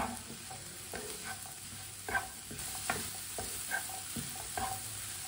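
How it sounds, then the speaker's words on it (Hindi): Tomatoes frying in a pan for a pea and egg dish, with a steady close sizzle and repeated scrapes of stirring throughout, no voices. "अब टमाटर डाल के 2 मिनट के लिए पका लेते हैं"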